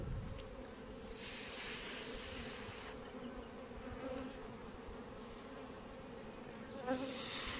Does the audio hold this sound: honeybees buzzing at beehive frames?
yes